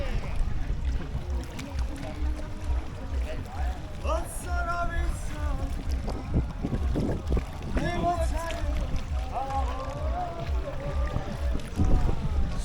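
Small boat engines putter over lapping water and wind near Hoi An, Vietnam, with tourists talking in the background.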